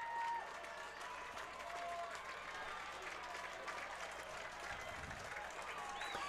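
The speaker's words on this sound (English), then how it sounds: "And Mets fans in the audience clapping." Mets fans in a minor-league baseball stadium crowd clap, a faint, distant spread of applause mixed with crowd murmur and a commentator's voice.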